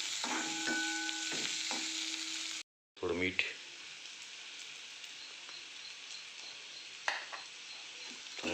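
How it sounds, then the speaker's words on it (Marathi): Chopped onion roasting in a pan for a Marathi onion bharad bhaji, giving a steady, dense sizzle that drops out briefly partway through, with a few light stirring knocks. "आता आपला कांदा व्यवस्थित भाजला गेलेला आहे"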